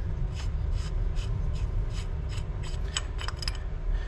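A part is unscrewed during a rebuild of an S&S Super B carburetor, producing a run of close, rhythmic small metallic clicks and ratcheting ticks over a steady background hum.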